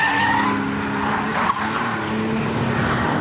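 A sports car's roaring engine with tires squealing and scrubbing as it slides sideways, loud and continuous with a brief gear-change dip midway.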